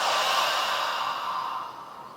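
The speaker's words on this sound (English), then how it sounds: "this part of the body expands when we take a deep breath like this" A single slow, deep breath, drawn close to the microphone as a soft airy rush that fades gradually, with no other sound around it.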